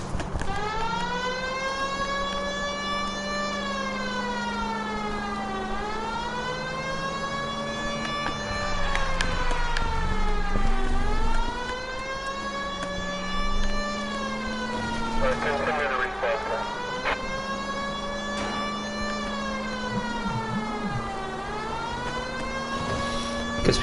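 A police car siren in the video game L.A. Noire, a loud, rising-and-falling wail that sweeps up and down in repeated long cycles under engine noise, with brief voices partway through.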